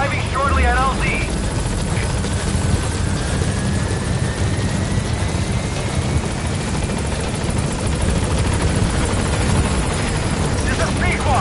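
The Pequod helicopter arriving in Metal Gear Solid V: a loud, continuous rotor and engine roar that holds steady throughout, with a brief radio voice and faint tones near the start.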